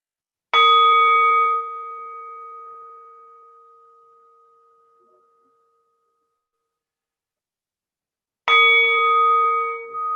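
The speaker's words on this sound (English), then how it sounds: "As the sound of the meditation gong" A meditation gong is struck twice, about eight seconds apart, during a meditation session. Each strike rings out loud and clear, then fades slowly into silence, with no talking.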